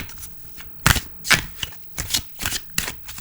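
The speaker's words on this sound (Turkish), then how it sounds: "İki kart daha seçeceğim." Tarot cards being shuffled and drawn, a series of crisp riffling and snapping bursts roughly every half second, close up with no talking.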